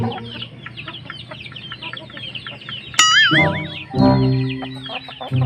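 A hen clucks near her egg in a steady run of short, close calls, then gives louder, drawn-out squawks toward the end.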